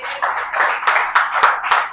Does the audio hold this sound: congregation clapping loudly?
yes